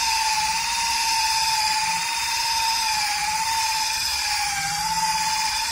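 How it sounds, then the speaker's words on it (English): A power drill whines steadily under load while pressed down onto a workpiece that smells of rubber and throws off grit, a sustained high tone wavering slightly in pitch, close and continuous with no talk. "When I push it down, you can hear the drill whine."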